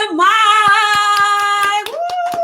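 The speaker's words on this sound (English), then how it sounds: "please give a round of applause for our tax professional" A few people clap in an even, regular rhythm for a guest joining a show, the claps sharp and spaced under a sustained sung or whooped voice that runs throughout.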